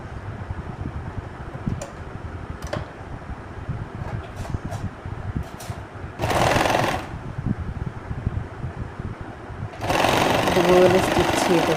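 A sewing machine stitches a scrunchie made from waste curtain fabric and elastic, running in short bursts near 6–7 s and again from about 10 s to the end, with quieter handling and a voice between runs.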